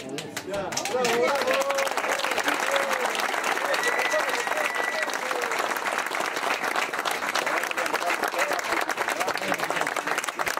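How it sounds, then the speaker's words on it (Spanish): Strong crowd applause at the Candelaria festival gathering in El Alma, Saavedra, continuous and loud for about ten seconds, with a voice and a whistle-like tone briefly audible at the start. "Fuerte aplauso, más fuerte aplauso"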